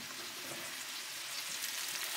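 Jumbo shrimp searing in a hot pan for a surf and turf dinner, a dense, even hiss of sizzling oil that holds steady and close throughout, with no talk.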